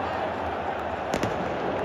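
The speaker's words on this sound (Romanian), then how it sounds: "Și cum zboară artificiile?" Fireworks burst inside a stadium during a Rapid–FCSB football derby, a couple of quick pops rising over a steady roar of the crowd, with voices nearby.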